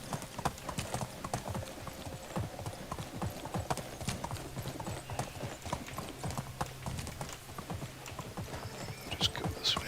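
Horse hooves clip-clop steadily on a path in the medieval survival game Medieval Dynasty, a rapid continuous rhythm of close hoofbeats with a soft game ambience behind them.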